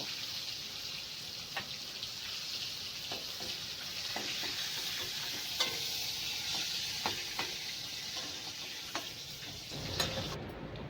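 Eggs and pointed gourd frying in a pan, a steady close sizzle that runs throughout with occasional sharp pops and spatula ticks, no voices.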